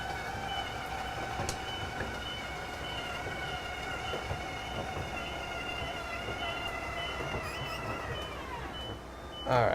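Inside a Winnebago Navion 24D Class C motorhome, an electronic alarm holds a steady, continuous tone at moderate level for the whole stretch, ending with a sudden close thump.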